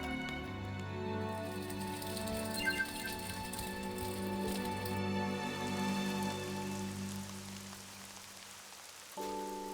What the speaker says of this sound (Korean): 촉촉히 여름을 재촉하는 비가 오는 날